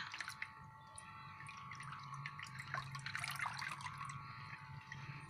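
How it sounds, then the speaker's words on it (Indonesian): Water pours and trickles softly into the soil of a potted Monstera adansonii plant, with faint drips and splashes; quiet, close, and steady without speech. "Ini saya pupuk dengan cara saya siram, saya basahi seluruh media tanamnya."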